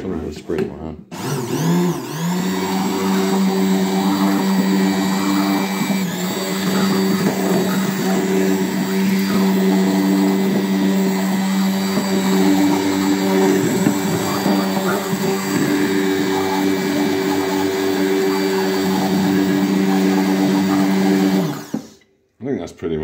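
Carolina reaper buffalo wing sauce is blended smooth with a stick blender, giving a steady, loud motor whir that runs for about twenty seconds before stopping abruptly.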